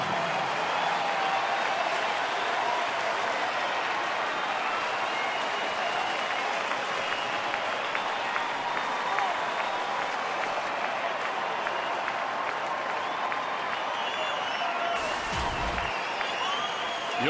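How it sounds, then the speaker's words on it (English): A baseball stadium crowd roars and applauds in the ninth inning of a one-run game between Texas and Detroit, a sustained wash of cheering and clapping that holds steady throughout, broad and distant-sounding. "One more out to get. Here comes the crowd."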